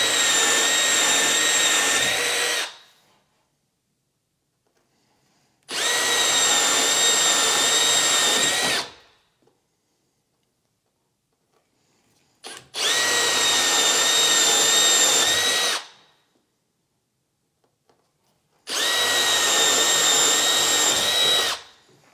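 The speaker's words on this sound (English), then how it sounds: "I'll just take my Forstner bit and I'll center it in here on my pencil line and just drill this out." Four separate runs of a power drill boring into wood with a half-inch Forstner bit, each about three seconds of steady whining motor with silent pauses between, loud and close.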